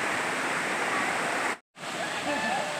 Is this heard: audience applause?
no